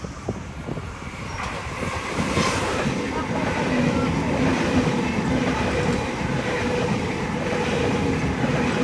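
A passenger train passes through Burwood station, its steady rumble and wheel clatter building, then holding loud and close from start to finish with no speech.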